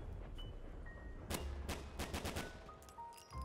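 Gunfire in a zombies video game: a single crack, then a rapid burst of closely spaced shots over a constant low background hum, followed by a few scattered later shots.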